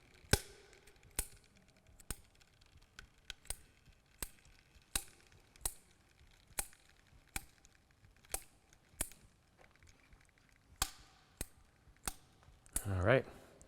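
Main strings are snipped out of a racket during restringing, a series of sharp, evenly spaced cutting clicks about once a second, close and distinct over quiet background, ending in a brief rustle.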